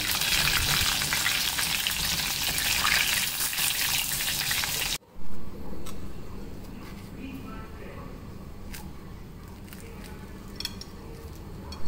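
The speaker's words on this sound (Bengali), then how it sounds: "এখন ভেজে নিতেছি। লো থেকে মিডিয়ামের মাঝামাঝি আছে রেখে একদম ব্রাউন করে ভেজে নিচ্ছি।" Aloo singara, potato-filled samosas, deep-frying in oil over low-to-medium heat: a steady, dense sizzle and crackle fills the first half, then drops to a softer bubbling hiss after a brief break.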